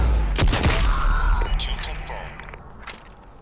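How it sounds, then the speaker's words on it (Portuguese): DMR rifle shots in the video game Super People, a few sharp, loud cracks close together near the start, followed by fainter game noise and scattered thuds as the sound tails off. "E eu queria muito testar essa DMR à distância"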